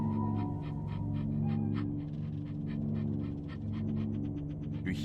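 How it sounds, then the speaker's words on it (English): Dog sounds in a video game, with rhythmic panting breaths and short yips over a steady droning game soundscape, continuous through the moment and moderately loud. "Bark, bark."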